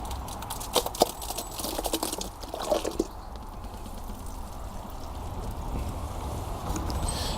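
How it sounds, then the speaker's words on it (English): Water dripping from the bottom of a large ceramic sink worm bin filled with wet coconut coir bedding, a few faint irregular drips and trickles over a steady low background hiss. "As you can hear, it's dripping out the bottom"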